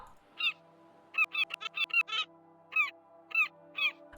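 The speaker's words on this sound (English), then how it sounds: "I do miss the sound of seagulls." Seagulls calling in the video game Is This Seat Taken: about ten sharp, squawking cries, some in quick runs and others spaced apart, heard clearly over a faint steady background hum.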